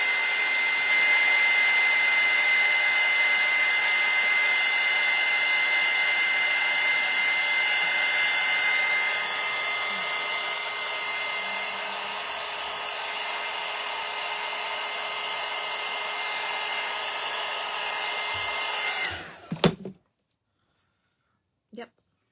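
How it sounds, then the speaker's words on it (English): A hair dryer blowing on paint over chipboard, a steady loud whir running for almost twenty seconds before it cuts off sharply, followed by a couple of small knocks and silence. "And then I'm going to hit this with the dryer."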